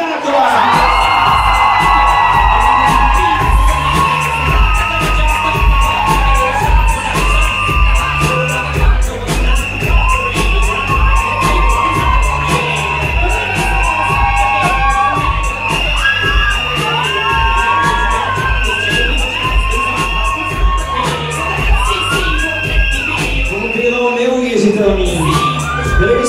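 A high-school graduating class at a Czech gymnasium sash ceremony cheers, whoops and shouts in a loud, continuous crowd roar with music and voices mixed in throughout.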